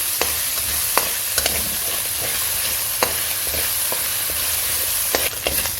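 Cumin, garlic and ginger sizzle in hot oil while a spoon scrapes and stirs the pan in light, irregular strokes, with no talking.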